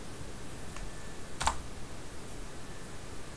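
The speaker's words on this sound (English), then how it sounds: "I'm going to type in" A few soft clicks of typing on a computer keyboard, one sharper keystroke standing out amid faint background hiss, brief and close.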